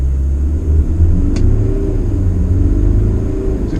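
A Fiat Titano Ranch pickup with a 200-horsepower 2.2 turbo diesel pulls forward under throttle, its deep engine rumble loud and close with a steady, throbbing drone.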